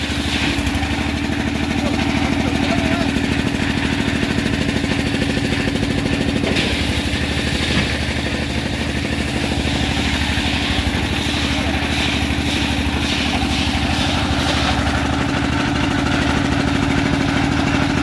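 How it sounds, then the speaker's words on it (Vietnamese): A loud, steady drone of an ice crushing machine at a fishing port runs throughout, a motor grinding continuously with a mechanical rumble, close and unbroken. "ở đây có cả máy xay đá cây ra để ướp cá đó các bạn ạ"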